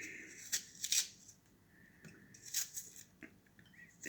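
Apples being cut with a knife on a board for an apple cake, a few short crisp slicing strokes close by in a quiet kitchen, separated by pauses.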